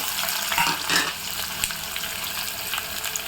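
Sliced onions fry in hot oil with cinnamon, cloves and cardamom for a green pea tomato rice, giving a bright, steady close sizzle with soft bursts of stirring.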